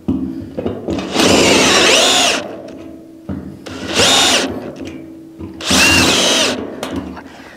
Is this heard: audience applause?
no